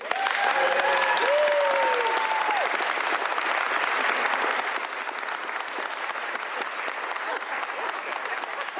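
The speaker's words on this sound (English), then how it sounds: "Please give a big round of applause to the prime sponsor of this legislation" Big round of applause at a governor's bill signing for the legislation's prime sponsor, a state representative; loud, dense clapping from a crowd, with a few voices and cheers over it early, then easing slightly.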